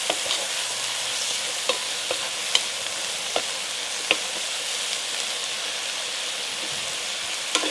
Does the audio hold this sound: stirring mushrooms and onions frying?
yes